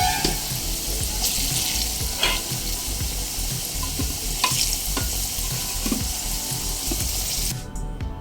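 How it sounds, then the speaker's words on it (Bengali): Potatoes fry with salt and turmeric in a pan, a loud continuous sizzle close by with frequent stirring scrapes and occasional clinks, ending abruptly, with no speech. "লবণ হলুদ দিয়ে আলুগুলো নেড়ে ছেড়ে লালচে করে ভেজে উঠিয়ে নেব"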